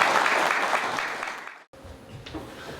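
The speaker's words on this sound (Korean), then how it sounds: "우리 선생님 박수로 모시겠습니다" A founding assembly audience applauds to welcome the keynote speaker, dense clapping that fades toward a brief gap, followed by quieter room sound and a few scattered claps.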